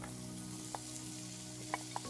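Steady low sizzle of okra and millet frying in a pan, with a few brief clicks and pops of stirring over a constant hiss.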